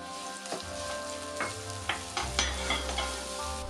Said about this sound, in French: On passe ensuite à la cuisson dans une sauteuse à feu moyen, une cuillère à soupe d'huile. Faire revenir une petite minute l'oignon ciselé.